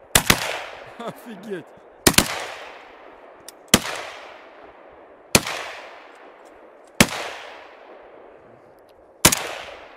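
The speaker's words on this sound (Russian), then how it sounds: "По-моему, какой-то нон-стоп стрельба пошла." Six loud, sharp gunshots ring out alone at roughly regular intervals, each trailing off in a long echoing decay; a voice briefly exclaims near the start.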